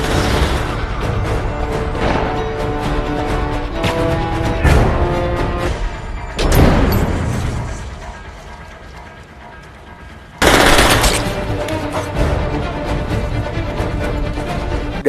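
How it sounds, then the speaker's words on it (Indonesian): Film shootout between FBI agents and Triad gunmen, with loud sustained gunfire and booming impacts layered over a dense, busy soundtrack, building to sharp surges partway through. "Film diawali dengan aksi baku tembak dua anggota FBI bernama John dan Tom yang tengah melawan pasukan Triad dari Tiongkok."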